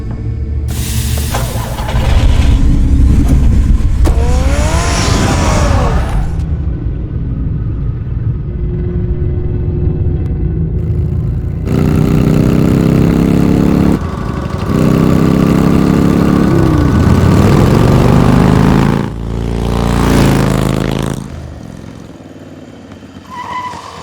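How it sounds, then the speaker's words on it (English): A car engine in the Batman Telltale game roars to life and revs hard, loud throaty surges with tire skids, then a long rumbling drive before it winds down. "Get the car ready, Alfred."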